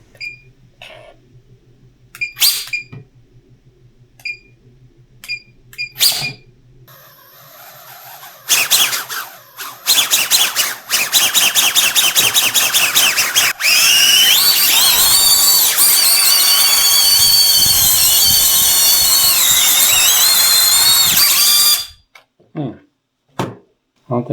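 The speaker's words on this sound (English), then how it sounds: "Two props are spinning backwards, so I had to switch the lead on each one of those" Tiny Whoop drone's small brushless motors spin up on a first test run, starting with short beeps and bursts, then settling into a loud, high, steady whine that runs about ten seconds before cutting off, and talk comes in around it.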